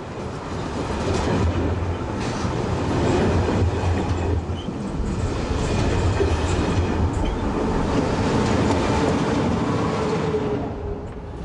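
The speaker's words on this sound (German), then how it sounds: "In engen Bögen rollen die Züge nach Osten oder nach Westen." Trains rumble steadily along station tracks at Leipzig Hauptbahnhof in the 1990s, with continuous rolling noise, rhythmic wheel clatter and occasional squeals, loud and close.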